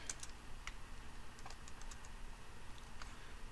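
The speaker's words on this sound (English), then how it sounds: "I have to apologize for my typing, I'm not used to this keyboard" Light, irregular keystrokes on a computer keyboard, faint and close, tapping in short bursts against a quiet background.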